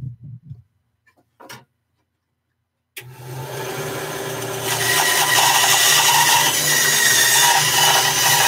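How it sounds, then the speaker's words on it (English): A small bandsaw starts up after a few seconds of near silence with faint clicks. It roars into a loud, steady whine that grows harsher as the blade bites into the workpiece. "Just carve that out, little bandsaw."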